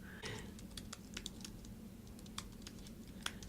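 Fingers typing on a computer keyboard to enter a name into an email contact list, giving a quiet, fairly close patter of irregular key clicks that continues throughout.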